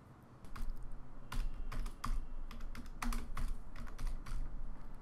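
Keys clatter on a computer keyboard as a project name is typed into Android Studio, bursts of close, crisp keystrokes in an uneven rhythm with short pauses, no voices.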